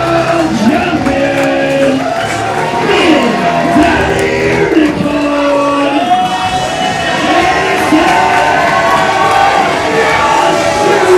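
A large crowd at a live wrestling show roars and cheers for a wrestler's entrance with sustained shouts and whoops, loud and continuous, with tonal chant-like swells throughout.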